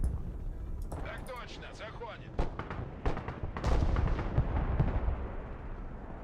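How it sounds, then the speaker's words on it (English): Missile launches and artillery fire in the military strategy video game Broken Arrow, whooshing launches followed by heavy booming impacts and rumbling explosions, loud and layered, with someone talking over them. "Oh, lots of missiles."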